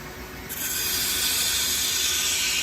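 Flushing starts on a 2006 Fanuc 0iC wire EDM machine, a steady watery hiss rising abruptly and holding loud and even, close by, with no talk.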